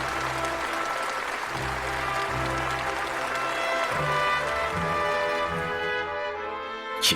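Enthusiastic applause from a large audience welcoming two heads of state at a Pyongyang summit meeting, a steady dense roar of clapping filling the whole stretch with a low sustained tone underneath.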